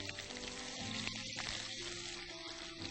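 Chopped onions sizzle steadily in hot oil in a pan, a continuous close frying hiss with faint crackles and no one talking over it.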